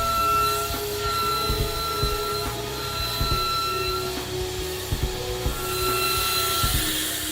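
A CNC router cuts wood with a steady, close mechanical whine and hum that holds throughout, with faint rhythmic rattling and small knocks as the bit works along the panel.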